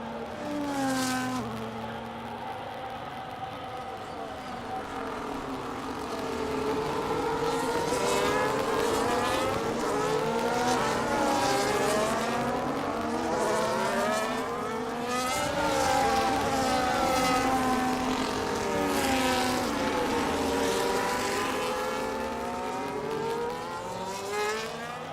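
Formula 1 race cars in the F1 25 racing game on the Saudi Arabia circuit, with high-pitched engines revving and shifting continuously as several cars scream past together, steady and fairly loud with no talk.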